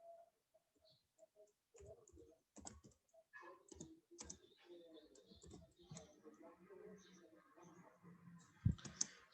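Keyboard typing of a chat message during an online class, scattered soft key clicks in bursts alongside a voice speaking Portuguese.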